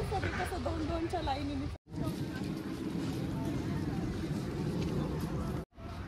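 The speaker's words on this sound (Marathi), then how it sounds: "ते स्पीड बोट" A speedboat runs on the open water near Nusa Penida with a steady engine drone and rushing wind, while voices talk over it early on.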